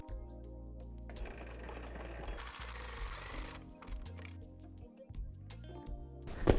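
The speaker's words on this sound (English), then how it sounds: "Now I'm going to just sew one of the sides that's open to make it be the bottom." A sewing machine stitches the side of a faux leather doorstop, a steady close mechanical whirr running with slight speed changes and no talking.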